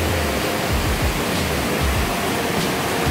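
A waterfall at a resort in Mae Rim, Chiang Mai, pours in a steady, loud, broadband rush of falling water that does not let up.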